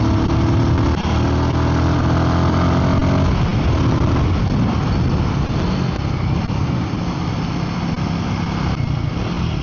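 A Royal Enfield Guerrilla 450 motorcycle runs steadily with a loud, continuous engine drone and road rumble throughout, no voices.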